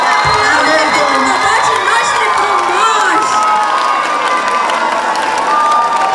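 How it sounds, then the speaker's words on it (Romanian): Students at a school freshman ball at Colegiul Spiru Haret in Suceava cheer and shout in a loud, dense crowd roar, with excited high voices and scattered whoops sustained throughout. "Aplauze pentru toți, a fost emoționat!"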